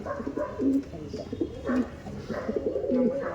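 Pigeons of the Andhra and Madrasi breeds coo repeatedly, low and close, in overlapping rounded phrases with no talk.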